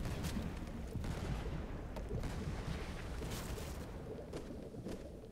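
Cannon fire from an island in the pirate ship game Blazing Sails: a dense, continuous barrage of overlapping booms and crackling blasts under rumbling noise, fairly faint overall, with no talking.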